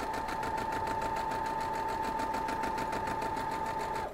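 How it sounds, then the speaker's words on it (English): A sewing machine runs steadily and loudly for about four seconds without pause, stitching small pieces of a quilt block. "Line that up and sew down."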